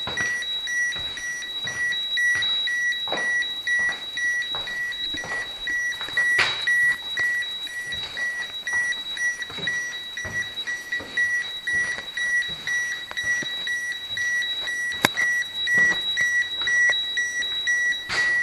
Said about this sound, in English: Now it's beeping because we're going close to the ground, to the soil